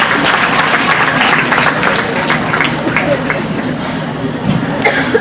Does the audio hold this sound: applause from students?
yes